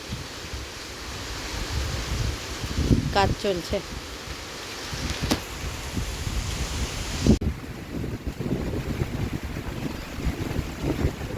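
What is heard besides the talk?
wind blowing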